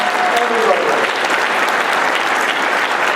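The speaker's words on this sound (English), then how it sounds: "Let's give them a good round of applause" A seminar audience applauds, steady dense clapping filling the room at close range from start to finish, with no voice over it.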